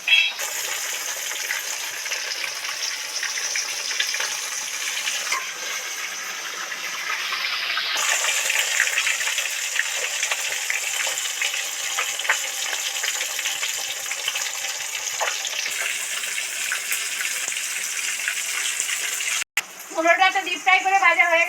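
A large head from a 3 kg katla fish fries in hot oil, making a loud, continuous hiss that runs on for a long while, with a voice breaking in briefly near the end.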